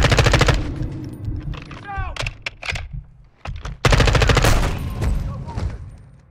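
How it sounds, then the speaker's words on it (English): Automatic gunfire in Call of Duty Modern Warfare 2, loud rapid bursts of rattling shots broken by short gaps, with single cracks and a faint voice in between. "I was shooting that dude in the face"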